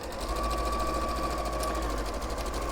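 Domestic sewing machine running a long tacking stitch along a seam, a steady close mechanical whir with a fast even needle rhythm throughout.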